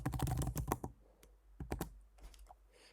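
Password typed on a computer keyboard during account sign-up, heard as a quick burst of close, crisp key clicks followed by sparser individual taps and pauses.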